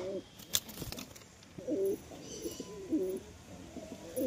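Pigeons coo softly in a series of low, throaty calls, fairly near but quiet, with a few faint clicks and rustles between them.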